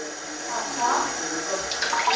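Water pours steadily for a recipe, six cups going into a pot on a gas stove, a continuous splashing wash that swells slightly toward the end, with no voices over it.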